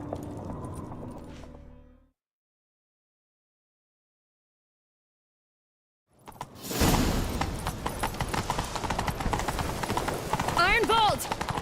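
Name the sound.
horse galloping hooves in The Witcher 3 video game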